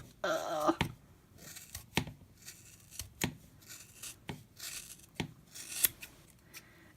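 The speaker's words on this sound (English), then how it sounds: "I'm going to take my scissors and just cut" Repeated scissor snips cutting through Barbie doll hair, crisp and close, with soft rustling between the cuts and no talking.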